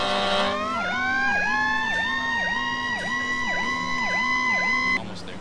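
Fire engine siren in the video game Emergency 4 wails loud and close as the truck arrives at a large fire, its rising and falling tone repeating steadily for about five seconds before cutting off.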